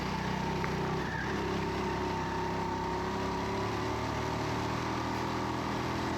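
A go-kart engine runs at full throttle, a loud, steady, buzzing drone that holds constant throughout at close range, with no talking.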